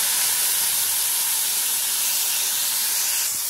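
Chopped tomato hitting hot oil for palak paneer, giving a steady, loud broadband sizzle and hiss that holds evenly throughout, with no voice over it.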